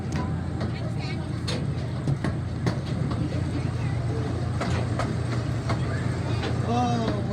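A zoo tour train rolls through a tunnel with a continuous low rumble and rattle, while people talk and call out over the noise.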